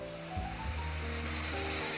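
A steady hiss of sizzling in a hot pan, starting with a low thud as blended tomato puree is added, then a sustained bubbling fry.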